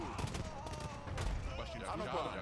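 Cannon fire from a medieval real-time strategy battle in Age of Empires II: Definitive Edition, cannons shooting against infantry, giving a steady wash of repeated booms and clatter of combat with no clear speech.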